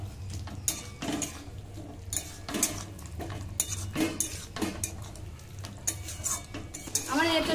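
A spoon stirs jackfruit and prawn curry in a pan, with uneven scraping and clinking strokes against the metal over a faint sizzle, close up and without talking.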